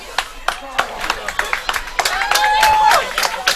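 New Canaan fans cheering and clapping at a varsity field hockey game against Darien, a crowd murmur with scattered claps and shouts under a close commentator's voice.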